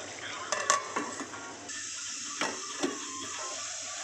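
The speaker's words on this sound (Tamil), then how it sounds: "உப்பு போட்டு நல்லா வதக்குங்க" Chicken sautéed with salt in a pan, with a steady soft sizzle and a few scraping stirs of the spatula against the pan, close and moderately quiet.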